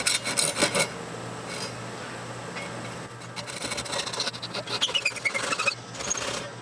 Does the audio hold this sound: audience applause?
no